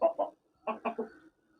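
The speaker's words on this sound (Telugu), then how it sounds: "ఇదేమో రసంగి కోడి, చూసారు కదా?" A Rasangi fighting rooster raised for Sankranti cockfights gives short, close clucks, two quick ones, then a pause, then a run of three, with no talk.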